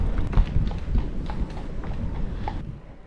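Hooves clip-clop in a steady walking rhythm on a hard road, fairly close, over a low rumble of background noise.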